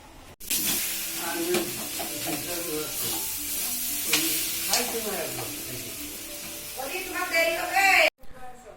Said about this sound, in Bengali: রাত্রেবেলায় রান্না করছি বাঁধাকপি